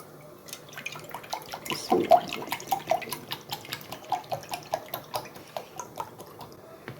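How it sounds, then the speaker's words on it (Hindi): Milk, about a litre, is poured into a kadhai (wok) for a sweet dessert, making a close, steady trickling stream with a quick run of small splashes and drips, heard alone. "ये लेते हैं कढ़ाई और कढ़ाई के अंदर डाल देंगे दूध"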